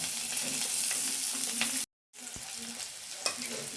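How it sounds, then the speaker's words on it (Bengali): Onion and green chilli frying in oil with cumin, stirred steadily: a continuous close sizzle with scraping strokes, broken by a brief silent gap before the frying resumes. "পেঁয়াজটা এরকম হালকা একটু ভাজা হবে"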